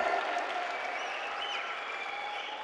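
Audience applauding in a packed hall at a Christmas and New Year celebration in Kuwait, a continuous wash of many hands clapping, moderately loud and sustained, with faint crowd murmur underneath.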